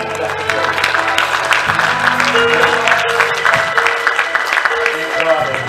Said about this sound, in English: Give God a clap.